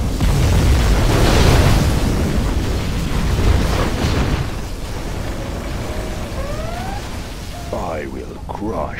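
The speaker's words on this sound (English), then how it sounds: "We have launched our nuclear missile. Our Scud Storm has been launched." Scud Storm and nuclear missile strikes in Command & Conquer Generals Zero Hour explode in loud, heavy booms and rumbling blasts, followed by crackling debris and brief whistling tones as the din subsides.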